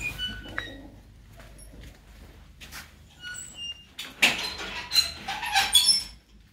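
A female Shah Akhi pigeon with a newly hatched chick coos and gives squeaky calls at close range. The sounds are sparse at first and grow louder and busier in the second half, with no talking.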